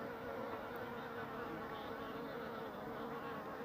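A steady, close honeybee buzz, droning continuously without a break.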